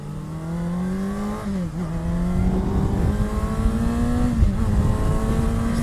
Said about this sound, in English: Screaming of an engine.